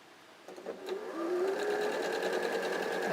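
A sewing machine chain-piecing quilt squares and triangles with a thread cutter, starting with a few soft clicks, then speeding into a steady, close whir of needle strokes with no talk.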